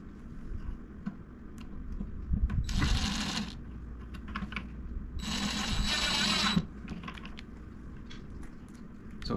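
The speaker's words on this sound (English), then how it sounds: "So basically put all 4 wheels on, casters, with the little screws." Two bursts of whirring, rattling mechanical noise, each lasting about a second, as small screws are driven in to fasten caster wheels onto a printer stand, separated by quieter handling sounds.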